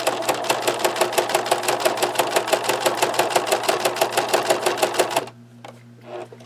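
A sewing machine stitches through layers of denim steadily in a fast, even rhythmic chatter for about five seconds, then stops, leaving a low motor hum and a faint click; the machine needs oiling.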